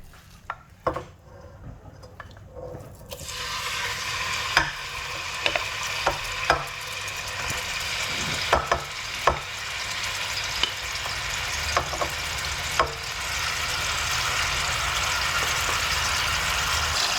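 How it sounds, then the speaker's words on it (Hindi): Minced meat dropped into hot oil in a pan, the frying jumping from a quiet start into a loud continuous sizzle, with scattered clinks and scrapes of a utensil stirring close by. "ऑयल जब हमारा अच्छा सा गरम हो जाएगा तो हम इसके अंदर कीमा डालेंगे"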